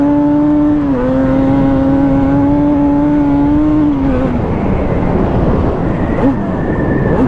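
A Yamaha Banshee 350 two-stroke quad holds a high, buzzy, sustained engine note that dips and then breaks into rough, crackling revs, heard close and loud.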